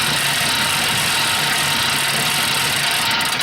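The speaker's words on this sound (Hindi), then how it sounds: "ये साइकिल बहुत शोर करती है" An old exercise bike runs noisily in a steady, loud, continuous whir with a grinding, mechanical hum, heard alone with no voices.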